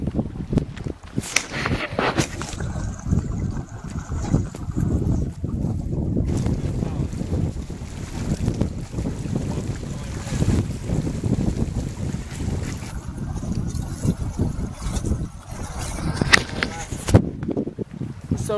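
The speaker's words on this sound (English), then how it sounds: "the wind is blowing straight into it" Strong wind buffeting a lakeside cabin shelter on a Swedish wild camping canoe trip, a steady roaring rush with gusts and microphone buffeting throughout, loud and close, with voices briefly audible.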